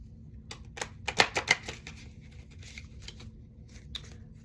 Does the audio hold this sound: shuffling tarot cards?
yes